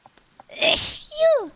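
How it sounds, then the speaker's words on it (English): A single loud sneeze comes up close, with a sharp breathy burst and a rising vocal tail, after a few small intakes of breath. "That was a fairly loud sneeze."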